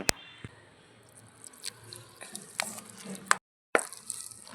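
A little water is poured into flour for homemade pizza dough, giving scattered wet plops and drips with light clicks of a vessel, close and intermittent, with a short silent gap near the end.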